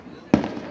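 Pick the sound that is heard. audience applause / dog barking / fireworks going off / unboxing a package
fireworks going off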